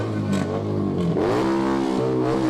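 A vehicle engine revs hard at a street protest against annexation of the Jordan Valley, rising in a loud, close growl and climbing in pitch through the second half, with no voices over it.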